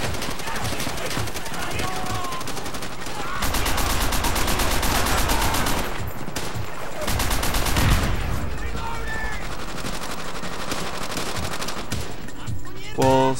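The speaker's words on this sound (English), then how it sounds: "Man the MG. Which is pretty powerful, but overheats really fast." Mounted machine gun in Call of Duty: World at War firing in long, loud sustained bursts that pause and resume, with dense battle noise between bursts.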